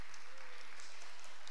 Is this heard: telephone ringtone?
no